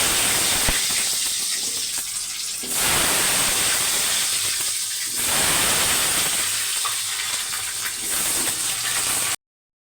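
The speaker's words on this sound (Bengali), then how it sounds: "তেল গরম হয়ে গেছে, আলু ভেজে নেবো।" Potatoes with salt and turmeric hiss and sizzle in hot oil in a wok, the loud spitting rising and easing in three waves before stopping abruptly.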